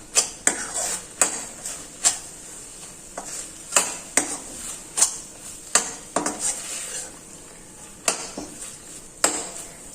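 Desiccated coconut being stirred into a thick mango barfi mixture in a metal pan, with repeated sharp scrapes and clinks of a spoon against the pan at an uneven rhythm, close and fairly loud, with no talking.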